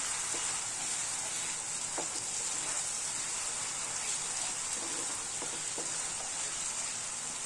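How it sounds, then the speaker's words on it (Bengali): Spice paste and yogurt fry in a pan for jackfruit kofta curry, giving a steady, even sizzle with a few faint stirring clicks throughout. "মশলাটা একটু কষে নিই"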